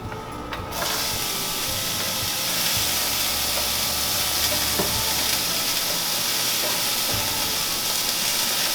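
Zucchini hits a hot pan with a sudden loud hiss that settles into a steady, dense sizzle, close and continuous with faint occasional clicks.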